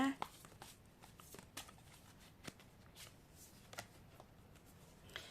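Oracle cards shuffled by hand, a series of quick soft riffling flutters and taps, close but quiet, spread across the moment.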